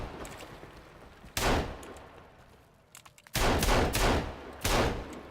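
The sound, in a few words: pistol gunfire in the video game Sons of the Forest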